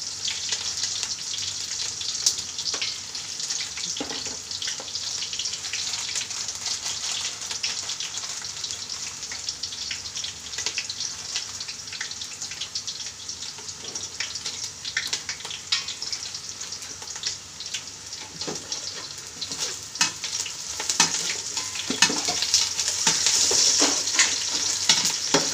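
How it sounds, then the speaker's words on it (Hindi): Onions and garam masala frying in a pan for a rice dish, a steady close sizzle with stirring and scraping throughout, no talking. "अभी प्याज ऐड कर देंगे, गरम मसाले डाल लेंगे,"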